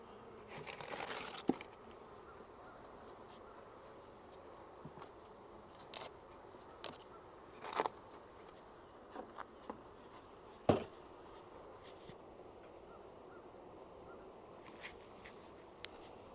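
Honeybees drone steadily around a hive after a paper combine, a soft continuous buzz broken by scattered rustles, crinkles and handling clicks close by.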